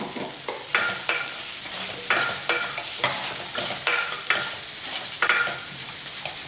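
Spices such as fennel seeds and garam masala sizzle and fry in a pan for mushroom curry while a spoon stirs and scrapes steadily, the crackling sizzle continuous and close with no talking.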